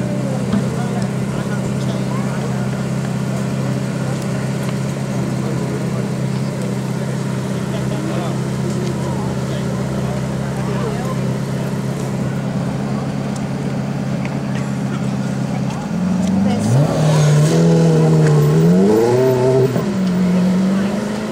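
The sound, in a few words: Audi R8 supercar driving on track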